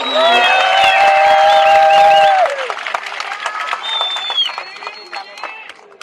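A large crowd at a rally in the rain claps and cheers in a dense, loud wave that swells at the start and then tapers while whistles and shouts carry over it, with voices mixed through the noise.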